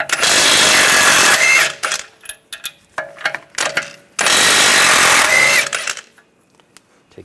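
Two long bursts of a pneumatic impact wrench driving nuts off with a 24mm socket, each loud and sustained, separated by short rattling clicks and taps of loosened hardware.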